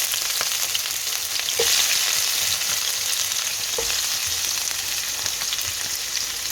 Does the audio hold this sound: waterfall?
no